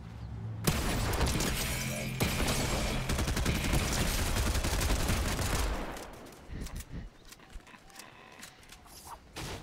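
Rapid bursts of gunfire in a battle royale game, dense and loud for several seconds, then thinning into scattered, more distant shots and clatter.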